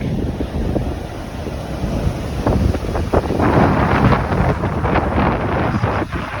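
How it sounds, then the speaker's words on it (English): Atlantic Ocean waves breaking along the volcanic black rocks of St. Kitts, with a steady surf roar under strong wind buffeting the microphone, loud and close and swelling in the middle. "Atlantic Ocean."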